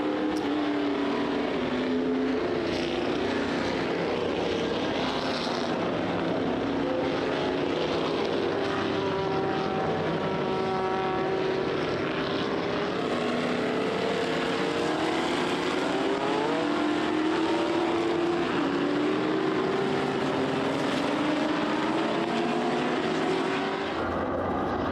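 Historic racing cars at the Spa-Classic endurance race at Spa, with a Ferrari leading the pack, roar past continuously for about 25 seconds, loud engine notes sweeping up and down in pitch as several cars go by.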